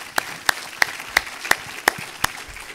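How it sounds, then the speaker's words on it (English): Seven sharp, evenly spaced hand claps ring out alone in a conference panel session, too few and too regular to sound like a full audience ovation. "Let's give a round of applause for our panelists."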